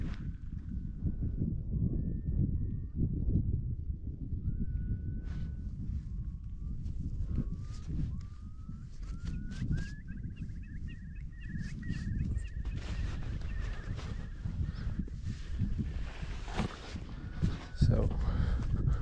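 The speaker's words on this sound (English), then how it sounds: "Do you hear that bird?" A bird calls repeatedly near a beach on the Norwegian coast, with a series of thin, high whistled notes over someone talking continuously and low wind or water noise.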